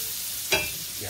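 Butter and breadcrumbs with pepper sizzling in a pan for a steak topping, a faint frying hiss with one brief sharp burst of sizzle near the middle.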